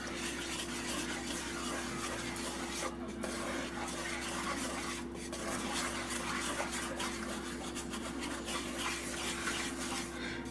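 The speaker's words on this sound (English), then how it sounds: "I'm going to keep stirring this in until it gets, this is about the consistency I want" A spoon stirs flour into melted butter and a little oil in a pot, making a roux for shrimp étouffée: a steady, continuous scraping and rubbing texture at close range with a low kitchen hum beneath and no talking.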